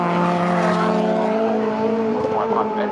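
Honda race cars racing at Cadwell Park, a steady high engine drone from cars at speed with a rising, shifting pitch as one passes, under a commentator's voice.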